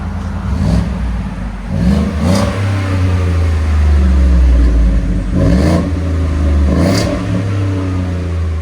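A 2024 Ford F-150 5.0L V8 pickup with an MBRP universal muffler idles with a deep burble, then revs up in several throaty surges and settles back each time, loud and near.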